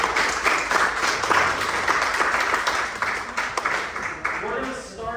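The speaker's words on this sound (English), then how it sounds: "let's just give one last round of applause" Audience applause at the close of a local-history speaker series talk about Chatsworth, a steady wash of many hands clapping at moderate volume, tapering slightly toward the end with a voice beginning underneath.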